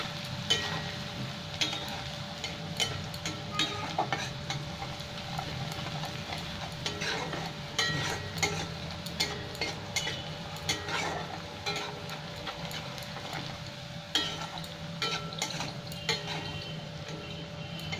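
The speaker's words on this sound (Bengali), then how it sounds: "রসুনটা একটু লাল লাল করে ভেজে নেবো।" Crushed garlic fries in a pan with fenugreek seeds for a Bengali fish curry, a steady close sizzle broken by frequent scraping and clicking stirs of a spatula, with no voices.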